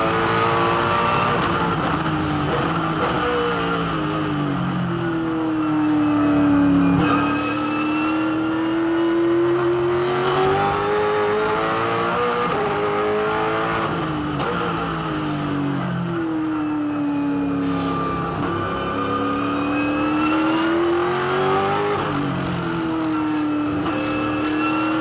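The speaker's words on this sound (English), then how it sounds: "Let's have a listen to a slippery wet lap round this racetrack on board with Garth." Onboard a 2007 V8 Supercar lapping the wet Winton Raceway, the engine roars loud and close, revs climbing and dropping repeatedly through gear changes over a continuous drone, with no talk.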